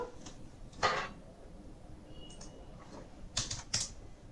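Keys tapped on a computer keyboard while writing an SQL query, a few sparse close clicks and short clusters separated by quiet pauses.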